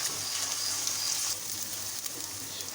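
Garlic ginger paste frying in a pan, a loud, close, continuous bright sizzle that eases slightly partway through, with faint stirring and no voices.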